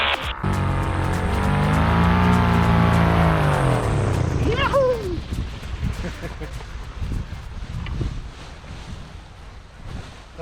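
A paramotor engine runs in flight, its loud droning tone sweeping downward before fading into wind rush and rumble. A voice comes in partway through.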